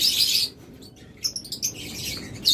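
A pair of blue Fischer's lovebirds chirps in quick, sharp bursts nearby, with short gaps between the calls.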